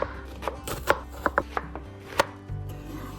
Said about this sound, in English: Take 1 Spanish onion and chop up roughly 1 cup.